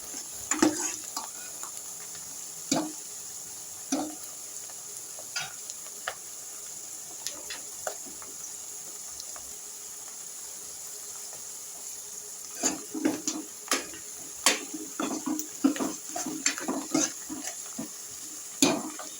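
Gongura curry fries in a pan as a spoon stirs it in irregular scraping knocks over a steady soft sizzle, close and fairly quiet, the stirring growing busier near the end.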